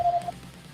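A phone call start beep sounds as a short steady electronic tone lasting about a third of a second at the very start, then fades into quiet background hum.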